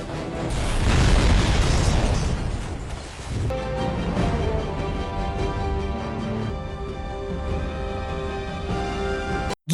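Loud explosions of a dock in the film The Expendables (2010) boom and rumble for several seconds, followed by a sustained roar with musical tones underneath, ending in an abrupt cut.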